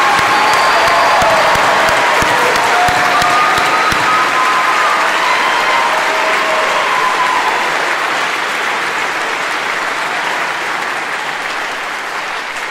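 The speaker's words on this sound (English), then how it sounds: "That's a good place to clap." Loud, sustained applause and some cheering from a crowd at a 2022 high school graduation ceremony, as the alumni class is presented; a dense roar of clapping that holds steady and eases slightly toward the end.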